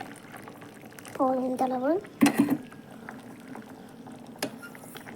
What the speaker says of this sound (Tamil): புளி நல்லா கொதித்து பச்சை வாசம் போகிற வரைக்கும் கொதிக்கட்டும்.